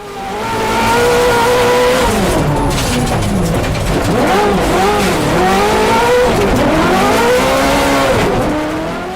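A high-revving Ferrari V8 engine swapped into a Subaru roars continuously, pitch climbing and falling through gear changes, loud and close with faint tire noise.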